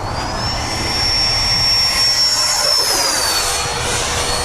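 A Freewing F/A-18C Hornet 90mm RC model jet streaks past, its loud ducted-fan roar with a piercing high whine that holds steady and then drops in pitch as it passes close by.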